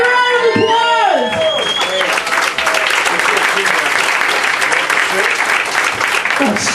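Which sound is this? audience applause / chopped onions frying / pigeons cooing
audience applause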